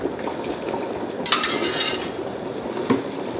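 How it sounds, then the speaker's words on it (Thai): Utensil stirring braised pork leg in an oyster sauce mixture in a pot, with soft scraping clinks and a brief louder burst of metallic stirring midway, all close and without talk. "เดี๋ยวเรามาผสมน้ำมันหอยกันนะคะ คนให้ ทั่วค่ะ"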